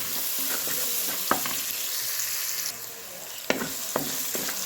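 Ginger pieces frying in hot oil for a rooster curry, a steady close sizzle broken by a few sharp clinks and scrapes of stirring.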